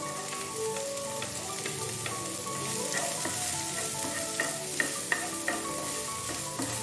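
Chopped carrots added to a hot pan for oats upma and stir-fried with onion, giving a steady close sizzle and crackle with scattered clinks and scrapes of the spoon.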